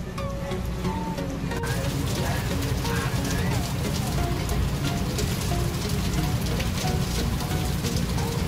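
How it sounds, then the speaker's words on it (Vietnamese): Heavy rain pours at Ha Long Bay in Vietnam, a loud, constant hiss and patter of drops on surfaces, close and unbroken, without any speech over it. "Mưa to quá, bị mắc mưa đây nhỉ."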